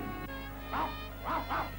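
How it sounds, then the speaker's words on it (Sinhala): A cartoon dog in an animated Gulliver's Travels story gives three yappy barks in quick succession over a sustained musical score. "බල්ලා ඉන්නවා"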